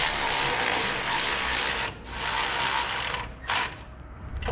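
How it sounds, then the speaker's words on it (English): A 9/16 socket on a power tool runs down U-bolt nuts on a 2017 Ford F-150 suspension, giving two whirring bursts with a short pause between them and a brief ratcheting stop at the end. "I'm gonna be using a 9/16 socket. And just like the other ones, you wanna run them down evenly"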